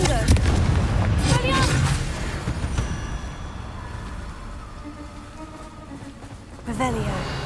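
Confringo, a fiery blast spell in Hogwarts Legacy, goes off as booming, crackling explosions, a heavy burst at the start and another near the end, with a voice speaking between them.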